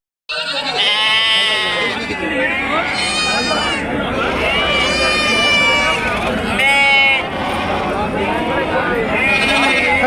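Young sheep about four to five months old bleat repeatedly at a livestock market, a near chorus of overlapping loud calls with people talking in the background.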